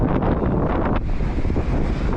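Strong wind buffets the microphone on a Baltic Sea beach, a heavy rumbling roar with surf washing beneath it. The gusts ease slightly partway through but keep blowing, and no one speaks.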